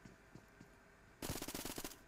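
Automatic gunfire in the mobile battle royale game PUBG Mobile, a sudden loud rapid burst of shots starting after a quiet stretch of faint game ambience and continuing to the end.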